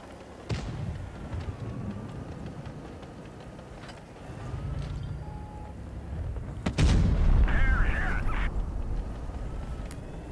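Tank cannon fire in World of Tanks Blitz, with several sharp, booming shots spread across a continuous rumbling engine and battle background, the heaviest blasts landing near the end.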